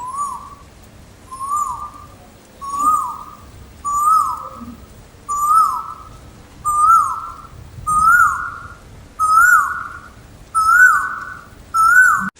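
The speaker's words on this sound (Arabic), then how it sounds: "تاسعا، طائر كويل الآسيوي." Asian koel singing a repeated rising whistled call, about ten clear notes evenly spaced at roughly one-second intervals, loud and close, alone with a low background hum.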